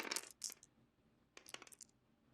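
Dice rolled onto a table during an X-Wing miniatures game, two quick clattering bursts of tumbling dice about a second apart, close and crisp with no talking.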